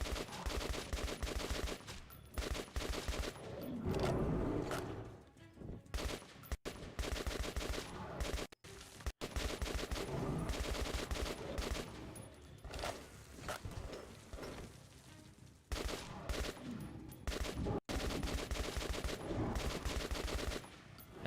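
Sustained gunfire at a monster in Metro 2033 Redux, rapid continuous bursts of shots with brief gaps, loud and dense over rumbling game sound, no one speaking.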